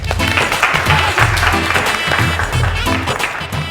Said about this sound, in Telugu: so let's all clap